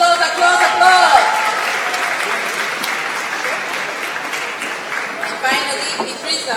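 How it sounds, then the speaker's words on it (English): A crowd claps for contest participants at a live creativity competition, a steady burst of applause that gradually fades, while a voice talks over the clapping. "Applause, applause, applause."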